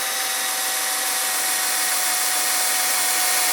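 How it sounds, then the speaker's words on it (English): A drill spins an eraser wheel across a Toyota Tundra to strip old badge adhesive, giving a steady, loud, high whirring grind throughout. "you just start your drill and just go across that, and it'll just erase all of this stuff off here"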